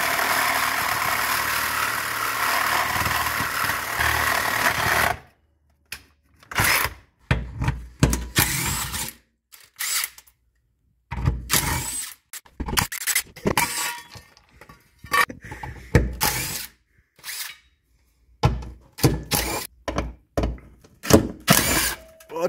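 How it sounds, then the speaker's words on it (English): Exhaust is cut off a BMW E46 3 Series in a workshop. A steady roaring tool runs first, then comes a long series of loud, irregular bursts of cutting, clanking and metallic banging separated by short silences. "We're just going to cut this exhaust off because it's rough shape anyway."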